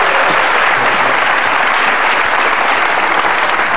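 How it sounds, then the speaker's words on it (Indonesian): Dense, steady applause from a studio audience at an Indonesian TV talk show, loud and close, filling the whole stretch without a break and with no talk over it. "Monggo, sama tepuk tangan dong, Mas Ahmad."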